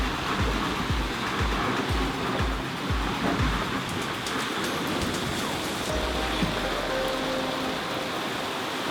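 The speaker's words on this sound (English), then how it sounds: "Absolutely pouring down." Heavy rain pours down on a sailboat at sea, a dense, continuous roar of falling water mixed with wash and splashing, with occasional thumps of the hull and rigging underneath.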